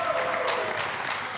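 A television game show studio audience claps steadily and densely for a moment, a continuous wash of applause with no break.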